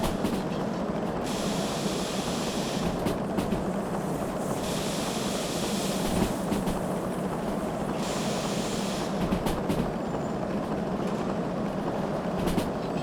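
Steam locomotive in the Derail Valley train game gathers speed, a continuous rolling rumble of wheels and chuffing with a hissing, windy wash and brief bursts of brighter noise, no voices.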